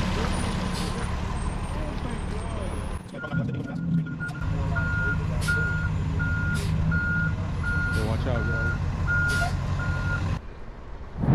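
A fish stocking truck delivering trout to a Riverside County park lake reverses with its engine running, a steady diesel rumble under a long run of evenly spaced reversing beeps, close and loud, with some voices in the background.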